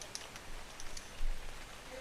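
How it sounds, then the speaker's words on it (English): Steady rain falling in the video game ARK: Survival Evolved, a soft even hiss of drops with a few light patters, heard alone at moderate volume. "Well, I can't turn off the rain"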